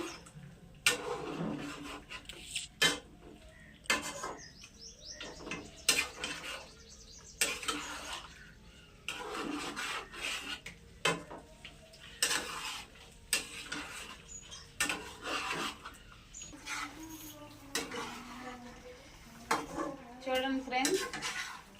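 Chicken frying in a pan with few spices is stirred with a metal utensil, giving close, irregular clinks and scrapes against the pan every second or two over a faint sizzle.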